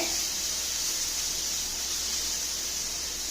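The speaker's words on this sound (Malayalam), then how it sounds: "ഈ നെയ്യ് കിടന്ന് ഒന്ന് വഴന്നു വരട്ടെ." Ghee hisses and sizzles in a frying pan with a continuous, dense, even sputter. It holds fairly loud and steady throughout, with no pauses and no voice.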